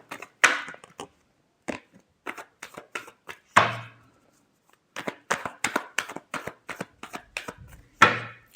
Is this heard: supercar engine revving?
no